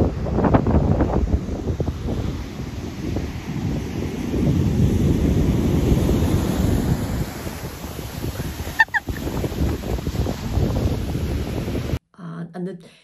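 Wind buffets the microphone on a murky North Sea beach as waves wash in, a steady broadband roar with a brief sharp knock near the end before it cuts off.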